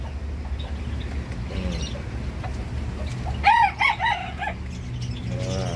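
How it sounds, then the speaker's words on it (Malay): A red junglefowl rooster in a pen gives a single crow midway, fairly close and clear, over a quiet background of soft bird chirps and clucks. "Tu ayam hutan."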